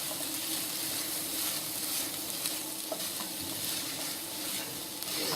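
Cream of celery soup is stirred in a pot on the heat, with soft scraping and sloshing over a faint continuous sizzle. The sound is quiet and close, with no talk.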